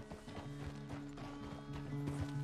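Horse hooves walking at an easy pace in Red Dead Redemption 2, a steady clip-clop of hoofbeats close by, set against a low game music drone with no talking.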